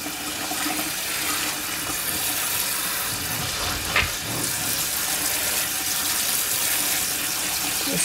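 Tap water runs steadily while bean sprouts are rinsed in a kitchen, a continuous close gushing hiss with a brief louder splash midway, no talk.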